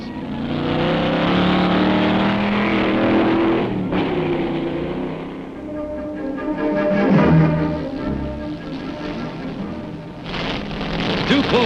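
A Chevy-powered Arciero Lotus sports car, under 1,400 pounds, races up Pikes Peak in 1965, its engine a loud, continuous roar rising and falling through gear changes, with rough, rain-like noise layered over it.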